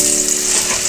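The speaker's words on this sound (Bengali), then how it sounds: "তেলটা আমার গরম হয়ে গেছে, এবার এই তেলের মধ্যে আমি শশার এই কচুরিটা ছেড়ে দিচ্ছি।" A cucumber kachori hisses loudly in hot oil, a dense, continuous close-up sizzle with no voices.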